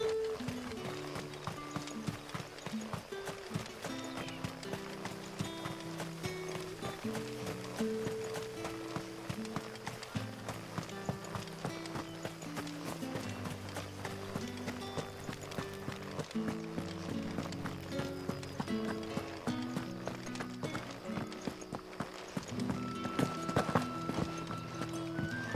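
In the game Final Fantasy XVI, a horse clip-clops at a steady trotting rhythm, hooves beating continuously beneath a layer of orchestral music, with a brief whinny near the end.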